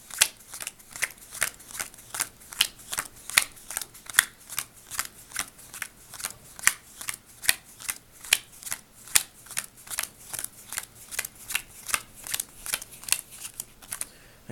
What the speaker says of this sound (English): We'll separate them into 2 piles.